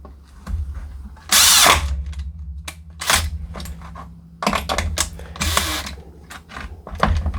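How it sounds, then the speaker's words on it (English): A power drill drives screws into a wooden star jig in several loud bursts of whirring and ratcheting, each stopping and starting again, with quieter handling and clicking between the bursts. "Let me just screw these in here real quick."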